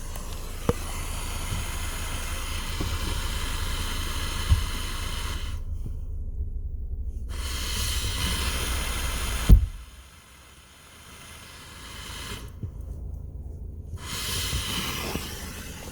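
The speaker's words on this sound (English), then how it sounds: "The 2014 Ford Focus has a pretty loud hissing sound from the brake area," Hissing from the brake booster area of a 2014 Ford Focus, a steady broadband hiss that drops out briefly twice and fades after a soft thump, heard close with no talking.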